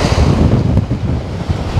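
Strong wind blowing on a beach at Blagoveshchenskaya near Anapa buffets the microphone in a loud, continuous roar, with surf mixed into the low rumble and no speech.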